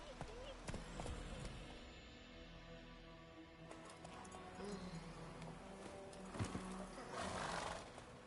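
Roach the horse galloping in The Witcher 3, steady clip-clop hoofbeats with a whinny and rumbling ambience, a voice speaking over the movement.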